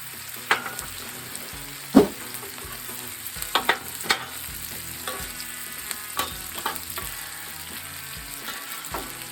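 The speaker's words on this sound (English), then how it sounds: "we're just going to turn that heat down and let that kind of sit there and simmer a little bit" Venison fries and simmers in bacon grease on a Blackstone griddle, giving a steady close sizzle with occasional sharp taps and scrapes from a spatula on the flat top. No voices.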